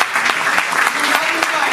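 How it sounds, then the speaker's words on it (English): Audience applause at the announcement event for the Mumbai Fest, a steady wash of clapping across the whole short stretch, fairly loud and close, with a few sharper individual claps standing out. "a big round of applause"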